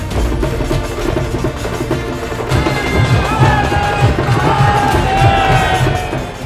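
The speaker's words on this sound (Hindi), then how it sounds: "रास्ते में जगह जगह पीएम के स्वागत में भीड़ जुटी थी।" A crowd gathered along the road in Varanasi to welcome PM Modi's passing convoy, its dense murmur and scattered cheers holding steady and loud throughout with no clear single voice.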